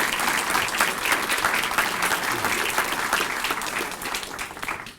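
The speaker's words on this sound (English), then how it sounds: "let's start with a round of applause for Ebenezer and Mary" At a school Founders' Night, an audience gives a loud, sustained round of applause for Ebenezer and Mary, dense clapping that fills the room and tapers slightly at the end.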